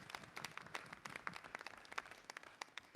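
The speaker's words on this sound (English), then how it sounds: "another round of applause for all of our semifinalists and commended students" A small audience at a school district legislative meeting claps for semifinalist and commended students, with distinct individual claps in a quick, uneven patter that sounds faint and distant.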